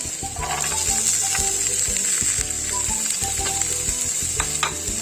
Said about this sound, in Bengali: এখন আমি দিয়ে দেব এর মধ্যে গাজর এবং বিনস